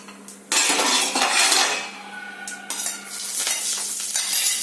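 Cumin seeds and curry leaves hit hot oil for a vermicelli upma tempering, bursting into a sudden loud sizzle that settles into steady crackling frying with spoon scrapes and clinks of the pan.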